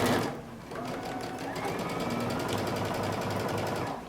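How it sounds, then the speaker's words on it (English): A sewing machine stitches a mustard sweater seam with a 5/8-inch seam allowance, its rapid needle chatter running steadily and close for about four seconds with no talking. "we're going to sew using 5/8 of an inch seam allowance"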